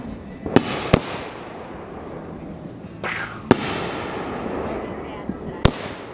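Backyard July 4th fireworks go off in several sharp booms and crackles, spaced irregularly over a rumbling background, with people talking excitedly between blasts.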